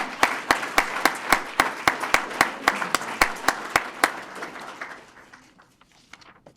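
Audience at a police swearing-in ceremony claps in a scattered, uneven rhythm, moderately close, with individual sharp claps standing out before the applause thins and fades to near silence.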